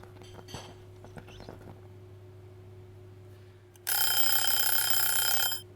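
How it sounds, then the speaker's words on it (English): A few soft clicks and taps, then a loud, continuous electronic buzzer sounds for about two seconds before stopping abruptly. "That's the buzzer. At last the cookies are ready."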